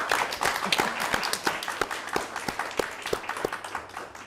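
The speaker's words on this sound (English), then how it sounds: "let's give the panelists a round of applause" An audience at a panel discussion on women's political participation in Croatia claps for the panelists, a steady round of dense applause with sharp individual claps standing out, heard alone for several seconds.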